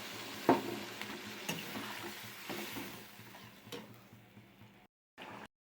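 Spice masala sizzling in a pan, then water poured in, with a few clinks and scrapes over a steady fry that fades to near silence at the end.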